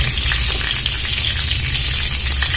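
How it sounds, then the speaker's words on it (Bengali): Bay leaf, a dried red chilli and whole cumin sizzling in hot oil for doi potol, a loud, dense, unbroken crackling hiss heard up close. "এবার আমি ফোড়নের জন্য দিয়ে দেবো তেজপাতা, একটা শুকনো লঙ্কা"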